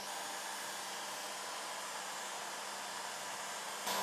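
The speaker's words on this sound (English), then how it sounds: "we will use this heater, and little by little we are warming the cylinder" A heater blows steadily as it warms a cylinder during an engine-principle demonstration, making a loud, constant whooshing hiss that runs unbroken from start to finish with no talking.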